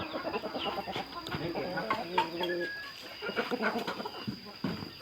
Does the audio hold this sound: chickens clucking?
yes